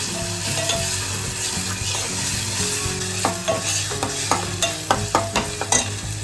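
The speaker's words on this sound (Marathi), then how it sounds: "थोडासा आलं लसून एक चमचा अजून घाला तेलावर परत परत परतताना" Ginger, garlic and tomato sizzle in hot oil in a pan, a steady frying hiss under a low hum, with a spoon scraping and stirring in quick, regular strokes toward the end.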